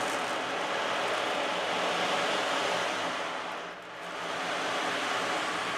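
An ocean drum shaken to imitate heavy rain and waves washing on a shore gives a steady, dense rushing hiss that swells and briefly dips midway before surging back, close and alone with no talk.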